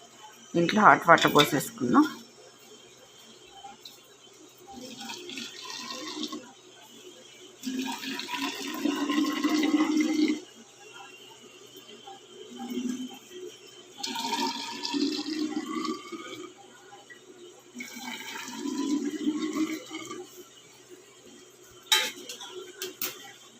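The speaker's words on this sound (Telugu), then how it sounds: "దీంట్లో హాట్ వాటర్ పోసేసుకుందాం." Hot water pours into a bottle in several separate bursts, each a gurgling splash, with quiet gaps between them.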